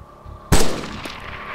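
A single sharp, loud crack of an AS50 sniper rifle firing a long-range shot in the ArmA 2 Wasteland game, close, followed by a rolling echo that fades over about a second.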